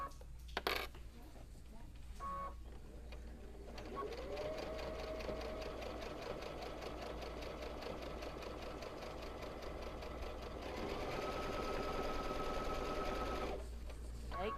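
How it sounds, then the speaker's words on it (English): Sewing machine stitching around the edge of a casserole hot pad, a close, rapid mechanical chatter running steadily for about ten seconds after a few short starts, with brief light clicks at the beginning. "And now we're going to stitch all the way around."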